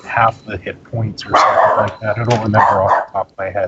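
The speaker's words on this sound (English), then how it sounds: "sorry about the dog" A dog barks and yips in quick bursts beneath steady talk from a man during a tabletop role-playing game session indoors.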